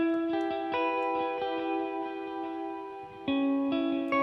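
Clean electric guitar arpeggios run through a Fender Deluxe Reverb amp, its amp reverb adding sustain; ringing plucked notes arrive in a steady rhythmic pattern with a fresh, louder strum near the end.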